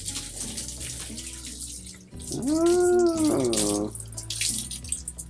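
A tap runs steadily while a dog is washed under it. The water is continuous and fairly close, and a voice rises briefly over it partway through.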